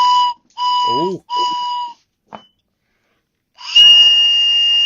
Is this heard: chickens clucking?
no